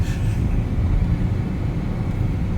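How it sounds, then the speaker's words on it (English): A Ford Ranger engine runs while driving, after its clutch fan has been removed, giving a steady low rumble and road drone from inside the cab with no speech. "Hear how the engine sounds when it was unloaded?"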